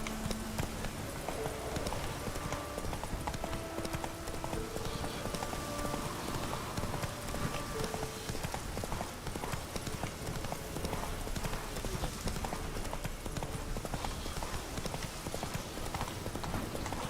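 Steady horse hooves clip-clopping throughout in The Witcher 3, over a dense bed of in-game ambience and music, with no talking.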